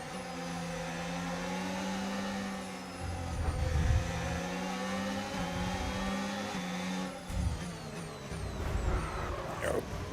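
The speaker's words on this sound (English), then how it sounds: "All the Formula One cars just sound like buzzy bees." Formula One car engines in a racing video game, a steady buzzy high-pitched drone with shifting harmonics and brief revving swells, continuous throughout.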